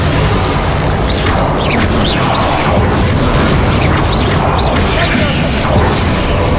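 Confringo explosive spells in Hogwarts Legacy blast repeatedly amid a loud, dense, continuous battle din of booms and crashes, with no pause between impacts.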